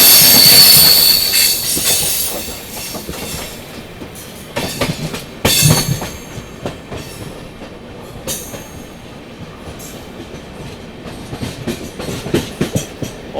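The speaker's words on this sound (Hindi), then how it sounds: "और एक सेट 3 लोकोमोटिव का ये चल रहा है पैरेलल अपने।" A train runs through the Kasara ghat section alongside a set of three banker locomotives, giving a steady rumble with wheel squeal and rail clatter, loud at first and then easing, with sharp bursts at intervals and no talk.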